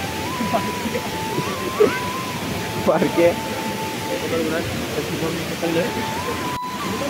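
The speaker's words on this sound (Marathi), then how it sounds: "तुम्ही या धबधब्याचा आवाज ऐकू शकाल किती येतोय जोरात." A constant roar of a waterfall fills the scene, a dense steady rush of falling water, with a brief spoken word and a few faint voices over it.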